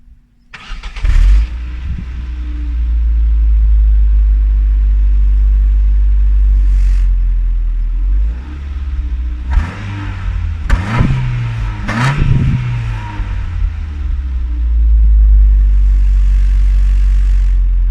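A 1998 Ford Focus Ghia with a 1.6-litre 16V Zetec 100 hp petrol engine cranks and fires, then settles into a steady idle broken by several sharp throttle blips that rise and fall, loud and close, with no talk.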